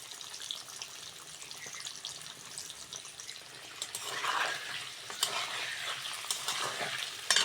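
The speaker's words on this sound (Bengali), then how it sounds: "আলুটা ভালো করে ভেজে নিয়েছি" Potato with a little turmeric fries in a pan: a steady crackling sizzle with stirring scrapes, swelling louder midway and staying busy to the end, close and without speech.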